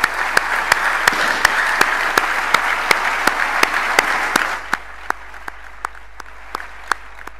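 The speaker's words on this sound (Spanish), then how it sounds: "creo que en nombre de todos, creo que mereces un enorme aplauso" An opening-lecture audience at a medical congress breaks into loud, dense applause that holds for about four seconds, then drops to a few scattered individual claps dying away.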